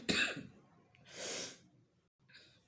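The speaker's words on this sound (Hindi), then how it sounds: "सॉरी, मुझे खांसी हो गई एकदम से।" A woman coughs suddenly while doing a tarot card reading: two harsh bursts close to the mic, about a second apart, with a faint breath after them and no talk.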